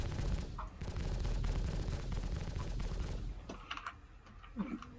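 Side-mounted turrets on an Aegis Hammerhead in Star Citizen fire in a rapid stream of shots for about three seconds, loud and close, then give way to softer scattered clicks and tones, with a voice faintly underneath.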